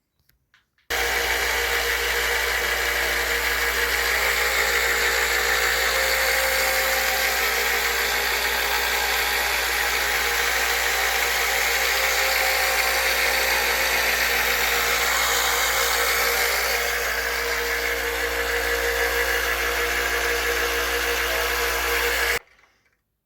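A bench grinder mounted on a Harbor Freight universal grinder stand starts up and runs steadily for about twenty seconds with a constant loud whirring hum, then stops abruptly, with no talking.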